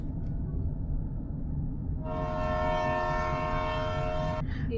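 A train rumbles past beside a road with a steady low roar, and partway through its horn sounds in a long sustained blast before cutting off.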